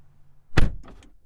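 Driver's door of a 2021 Porsche 718 Cayman GTS 4.0 shutting with a single solid, close thunk followed by a brief latch rattle in a quiet cabin.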